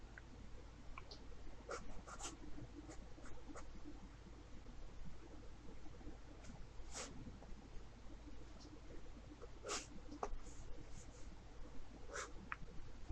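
A pencil sketching on paper, quiet scratchy strokes in short irregular bursts with pauses, close and faint, without any talking.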